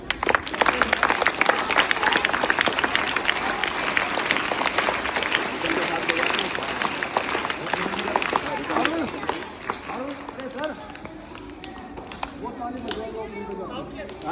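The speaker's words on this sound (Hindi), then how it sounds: "इन सभी बच्चों के लिए तालियां बजाइए" Children at a Delhi municipal primary school applaud together, a dense burst of clapping that stays loud, then thins and softens slightly toward the end with voices mixed in.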